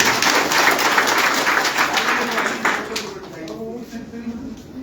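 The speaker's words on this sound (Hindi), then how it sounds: "एक बार जोरदार ताली बजाओ।" A crowd claps loudly for a few seconds, then the applause fades out as a voice begins speaking.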